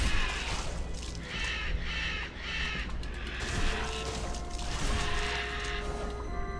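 Harsh crow-like cawing from a bird in the video game Demon's Souls, repeated over a dense, noisy background of rumble and game clatter.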